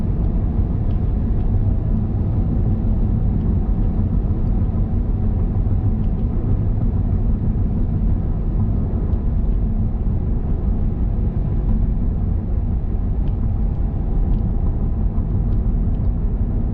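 A car drives along a road heading toward Playas de Tijuana, with a steady low road and engine rumble that stays even and fairly loud throughout, with no talking.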